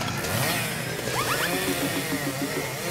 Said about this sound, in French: C'est la tâche parfaite pour mon tournevis supersonique numéro 9.